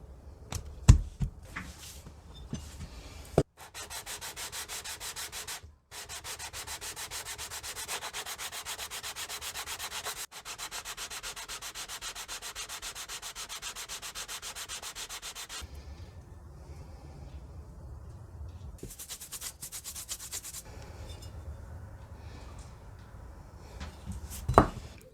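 Metal sole of a rusty block plane rubs back and forth on sandpaper taped to a flat surface in a steady rapid rasping stroke, sustained for long stretches with short pauses between passes.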